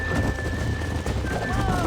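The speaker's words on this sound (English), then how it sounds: "There's the horses!" Horses in Red Dead Redemption, heard up close with clopping hooves and a brief whinny amid game ambience, the sound steady and loud over the whole moment.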